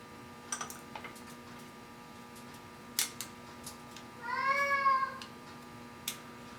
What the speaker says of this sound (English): It's the garage cat.